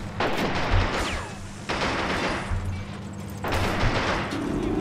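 Artillery fire in the PC war game Men of War: Assault Squad 2 booms loudly in repeated heavy blasts with a rumbling battlefield din and scattered gunfire between them.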